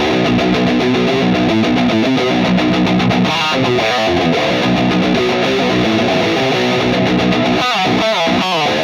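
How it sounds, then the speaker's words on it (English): Heavy distorted electric guitar through a Mesa Boogie Mark VII amp chugs through tight, palm-muted modern metal riffs, dense and loud throughout, with brief choppy stops near the end. "And I needed a good high gain modern metal sound."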